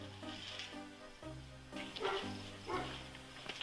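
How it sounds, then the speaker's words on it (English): A big dog barks somewhere off at a distance, a few muffled woofs coming in irregular bursts over low background hum. "Sounds like a big dog."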